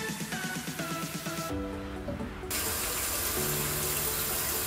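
A tap runs steadily into a sink while a face mask is rinsed off, a continuous close hiss of water that gets louder partway through, with music playing underneath and no talk.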